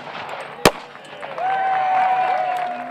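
A single sharp gunshot cracks out at a shooting range's opening ceremony in northern Arizona, followed by crowd noise and a long whistle-like tone over the open-air ambience.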